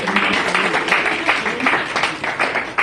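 A church congregation applauding to acclaim the Lord, producing a dense, steady wash of many hands clapping at once, loud and close, with voices mixed in throughout.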